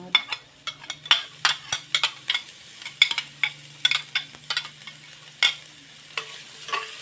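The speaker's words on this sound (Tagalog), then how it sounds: "Maglagay na tayo ng oil. Ilagay natin ngayon ang bawang." Garlic sizzles in hot frying oil as a utensil stirs it. Sharp scraping clicks land irregularly over a soft, steady hiss, with no voices.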